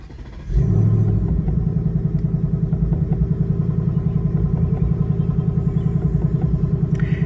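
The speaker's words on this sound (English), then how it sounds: "a very nice sounding vehicle, and I don't know if you could hear it, but Ford does have a new startup chime" A 2024 Ford Mustang GT convertible V8 engine cranks and fires up loudly via push-button start, then settles into a deep, steady, lumpy idle rumble close by.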